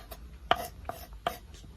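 Tomatoes are chopped with a knife on a cutting board for a spicy glass noodle salad: three or four sharp, close knocks at an uneven pace, with quiet gaps between them.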